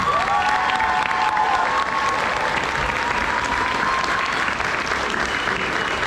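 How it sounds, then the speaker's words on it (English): Dense, steady audience applause at a Washington State University graduation ceremony, filling the hall for the full stretch with some whoops and cheers mixed into the clapping. "Javier, can we give them all a big round of applause?"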